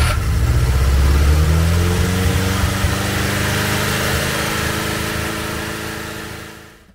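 A wooden mini bus engine running on a hand-fed carburetor, loud and close, a rough, steady mid-pitched chugging that holds for several seconds before cutting out and fading near the end.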